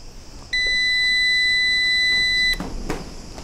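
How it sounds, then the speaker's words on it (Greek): An uninterruptible power supply gives one steady, loud electronic beep lasting about two seconds after its battery has been replaced, followed by quiet room noise. "Έκανε μπιπ και τώρα βλέπουμε το φωτάκι ανάβει πορτοκαλοκόκκινο."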